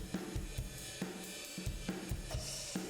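A drum bus with parallel compression, heard on the compressed side only: a steady groove of punchy kick and snare hits with a smeared, reverb-washed tail, played quietly and without voices.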